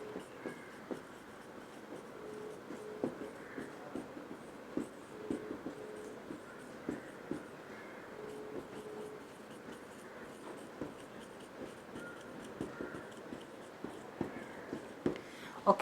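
A pen or chalk writes out fraction examples for a Grade 7 maths lesson, producing steady, close scratching strokes with frequent short taps throughout, while a voice talks softly over it.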